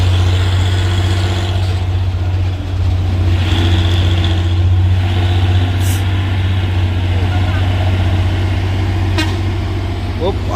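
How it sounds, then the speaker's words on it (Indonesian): A diesel truck rumbles by at night on a hill road, its loud engine drone steady and close throughout, with a brief horn-like toot and faint voices beneath. "Ada truk balap."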